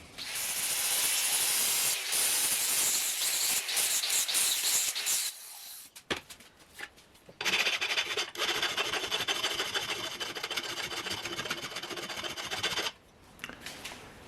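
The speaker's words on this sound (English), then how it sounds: "now I can just grind this nicely" Rasping power grinding on the burnt end of a wooden body-hammer handle, a harsh hissing abrasion in two long loud spells separated by a pause with scattered knocks and handling noises.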